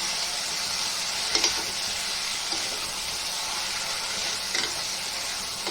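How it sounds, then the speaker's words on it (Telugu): A prawn and gongura curry simmers in a pan with a steady, close sizzling hiss that stays even throughout, broken by a couple of faint soft clinks. "వీటన్నిటికి కూడా మసాలా పట్టేలాగా కొంచెంసేపు ఉడకనిద్దాము"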